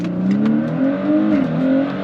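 Audi B9 S4 with an Integrated Engineering Stage 1 tune on E85 fuel, launching at a drag race start: a loud, steady engine drone with rising harmonics, close and continuous, no speech.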